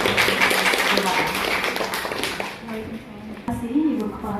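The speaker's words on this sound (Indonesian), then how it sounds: "Tepuk tangan dulu untuk Bu Rina." Audience at a school event applauds Bu Rina, a burst of clapping strongest at the start and fading out, with a voice speaking afterward.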